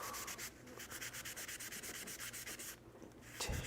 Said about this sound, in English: I'm going to hit it with the soft scrub over here